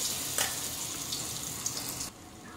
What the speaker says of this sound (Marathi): आता इथे मी मसाला परतायला टाकलाय